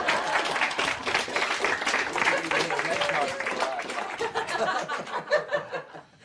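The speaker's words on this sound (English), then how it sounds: "spontaneous applause here would be appropriate" An audience claps after a mentalism card trick, lively clapping mixed with chuckles and laughter that gradually thins toward the end.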